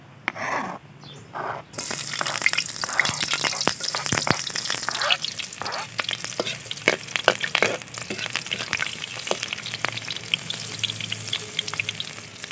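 Onion sautéing in hot cooking oil in a pan for a Bicolano natong dish, a dense steady crackle and sizzle with scattered pops, close up and continuous, no one speaking.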